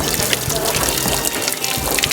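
Water from a mountain spring fountain in Sarajevo, a steady splashing and pouring flow, loud and close throughout, with no talking.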